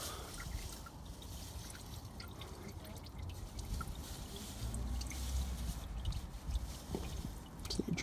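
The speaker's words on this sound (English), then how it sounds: "It's just pouring out a bit because it's obviously filled up right to the max, the filter." Engine oil trickles and drips steadily from a removed oil filter on a 2016 Ford Edge 2.0 TDCi Duratorq diesel, a faint, continuous liquid patter with no talking.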